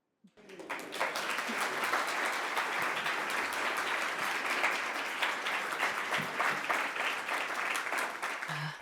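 An audience applauds after an oration at a National Reconciliation Week event in Melbourne, dense sustained clapping that starts abruptly and holds steady, with a few voices under it.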